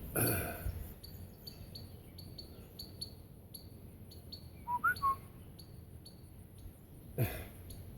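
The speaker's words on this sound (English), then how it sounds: "we got like a little sparrow" Small sparrow perched atop a smoker outdoors gives a few short, faint high chirps in a brief cluster, set against a quiet background with a steady high whine and occasional distant knocks.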